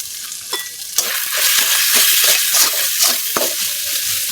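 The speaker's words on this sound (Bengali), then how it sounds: "মশলাটা কষানোর জন্য সামান্য অল্প পানি দিলাম মশলাটা কষানি হয়ে গেছে" Ground coriander, turmeric and chili powder sautéed with a splash of water in a pan for beef khichuri, giving a loud close sizzle broken by repeated scraping stirs in an uneven rhythm.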